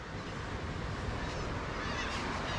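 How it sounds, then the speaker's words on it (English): Geese or similar fowl honk close by in a dense, continuous chorus outdoors at a campsite, loud and unbroken. "The birds are attacking me."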